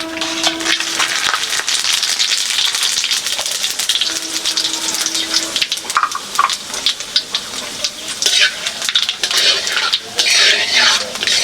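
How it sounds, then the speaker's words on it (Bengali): Bay leaves, cloves, cardamom, cinnamon, dried red chillies and whole cumin crackle and sizzle in hot oil in a pan for a country-chicken curry, a steady close bubbling fry with stirring clatter and occasional splashy bursts. "তেজপাতা, লবঙ্গ, এলাচ, দারচিনি, শুকনো লঙ্কা আর গোটা জিরে তেলের মধ্যে দিয়ে দেওয়া হলো।"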